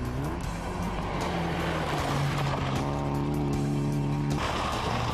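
Rally car on a dirt stage sliding through a corner and accelerating, engine revving up and down in loud sustained bursts alone.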